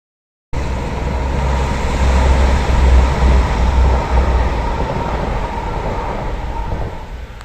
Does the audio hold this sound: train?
yes